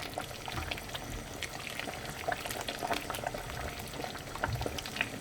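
Beef seaweed soup with perilla seed powder bubbling steadily in a pot, a dense continuous simmer with small pops throughout and no voices.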